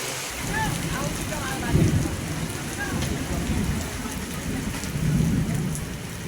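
Heavy rain pours steadily in Hyderabad, a dense continuous hiss on the street with low rumbling swells, loud and close with no voices.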